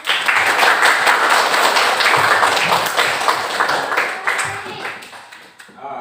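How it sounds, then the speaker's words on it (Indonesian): Classroom applause for a student group: dense, sustained clapping from many hands at close range, steady for several seconds before thinning toward the end, with voices mixed in underneath. "Tepuk tangan untuk kelompok 3."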